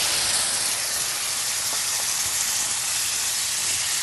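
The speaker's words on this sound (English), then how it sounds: "We can deglaze with a little red wine there." Mushrooms in a pan deglazed with red Merlot wine give off a loud, continuous steamy hiss and sizzle, even and unbroken from start to finish with no voices over it.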